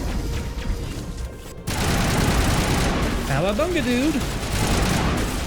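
Sustained assault rifle fire from the shooter game Mass Effect Legendary Edition, loud and continuous through most of the clip, with brief game effects and a voice talking over the shooting.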